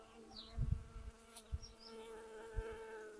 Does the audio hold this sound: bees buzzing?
yes